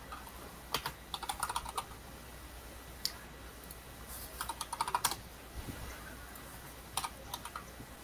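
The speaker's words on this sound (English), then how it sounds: "next to it, I'm typing dash dash help to just get some preliminary commands that I can do with this" Computer keyboard typing while entering Linux commands on a server, scattered bursts of quick clicky keystrokes with pauses between them, close and fairly quiet, no talking.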